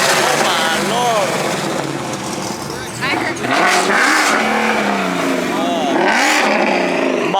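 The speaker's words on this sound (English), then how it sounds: "Some sort of anti-lag two-step." A twin-turbo Lamborghini Aventador at a car show revs hard with an anti-lag two-step, rising and falling engine sweeps and sharp crackling bursts, loud and close amid crowd noise and people talking.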